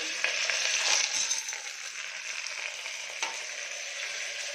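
Chillies, onion, ginger, garlic, peas and corn frying in a pan, a steady close sizzle that is loudest at the start and then settles, with a few stirring scrapes and no talking.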